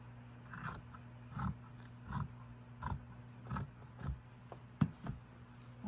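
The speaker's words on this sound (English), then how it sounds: "And then just cut it." Scissors snip through sock fabric while a sock gnome is being made, giving about eight regular, quiet cuts at a steady rhythm, close by with no talking.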